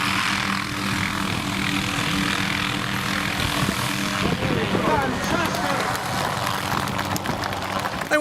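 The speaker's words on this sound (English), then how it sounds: "Watch as this chopper effortlessly picks up a traffic cone." A helicopter hovers nearby while lifting a traffic cone, its rotor and engine giving a steady droning roar that shifts midway, with a voice talking over it.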